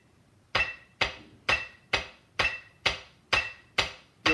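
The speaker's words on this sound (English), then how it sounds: "if I'm playing quarter notes on the metronome, here's how it sounds with eighth notes" A metronome clicks steadily, nine sharp, bright, evenly spaced ticks about half a second apart, each with a short decay, close and alone without voices.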